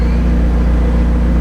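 A McLaren 720S engine idling, a loud, steady low drone with a constant hum, with no other sounds on top.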